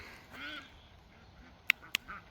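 Ducks quack nearby, with a few soft calls and then two sharp, loud quacks in quick succession against a quiet outdoor background.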